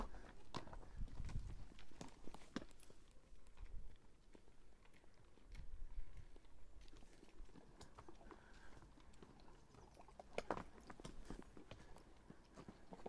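A horse on a mountain trail in the Sierra Nevada near the village of Bubión gives irregular hoof clops and scuffs, mixed with chewing and bit sounds, close by and fairly quiet.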